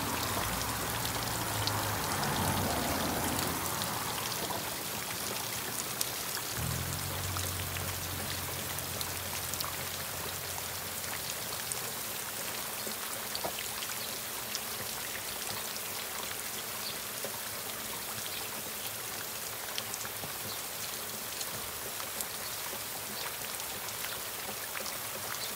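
Water spraying over kidney bean plants in a garden on a morning, a steady hiss and patter of droplets on leaves and soil that runs continuously, with a low hum at the start.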